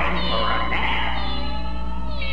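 Cartoon kittens meow in a Tom and Jerry scene, with several overlapping high mewing cries filling the clip over a steady musical backdrop, loud and close.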